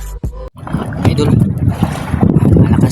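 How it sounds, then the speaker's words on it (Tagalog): Strong wind at sea roars and buffets the microphone on an open boat, a steady broadband rush with gusting surges after a brief dropout near the start. "malakas yung hangin"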